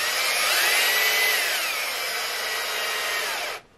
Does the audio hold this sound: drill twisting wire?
yes